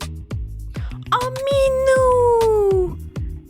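A cat gives one long, drawn-out meow close by in a hall in Marrakech, with footsteps or soft thumps and a brief voice around it.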